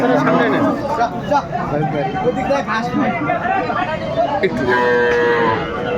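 Cows moo loudly and repeatedly over a steady hum of crowd chatter, with people talking nearby at a busy outdoor cattle market in Aftabganj, Dinajpur, Bangladesh.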